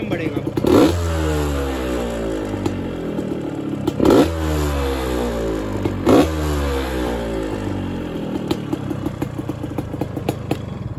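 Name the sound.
two-stroke motorcycle engine revving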